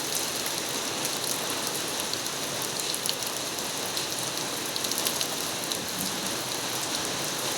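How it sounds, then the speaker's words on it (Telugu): Heavy rain pours down steadily and close, a dense unbroken hiss of drops striking surfaces with no pauses and no voices. "ఇంత హెవీ రెయిన్ ఉందంటే"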